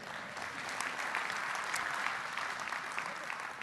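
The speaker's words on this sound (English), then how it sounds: "Give yourselves a round of applause," Sustained applause from a conference audience, a steady dense wash of many hands clapping at even loudness throughout.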